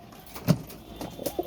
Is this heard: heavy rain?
no